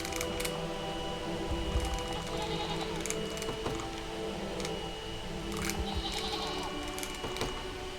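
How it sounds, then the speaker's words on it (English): Goats bleat several times in a video game, clear repeated cries over a steady ambient background. "Ooh, goats."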